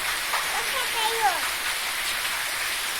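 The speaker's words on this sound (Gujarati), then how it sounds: "અમારે બહુ વરસાદ આવ્યો ભાઈ" Steady rain hisses throughout in Mevasa village, a broad wash of noise, while a voice speaks faintly in the middle.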